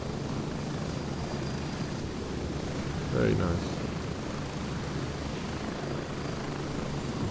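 Helicopter flight in the video game Gray Zone Warfare, a steady rotor and engine drone holding throughout over a town toward base, with someone talking over it.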